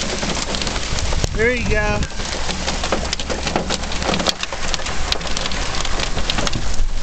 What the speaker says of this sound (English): Being plunked by hailstones.